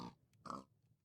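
A pig in the Sky Factory 4 Minecraft modpack gives two short oinks: a faint grunt at the start and a louder, nearer one just after, separated by quiet.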